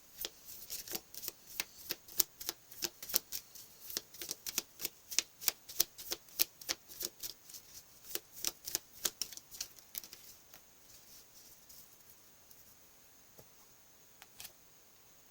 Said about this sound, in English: I'm going to pull another animal card.